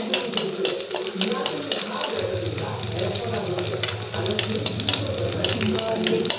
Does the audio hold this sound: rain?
no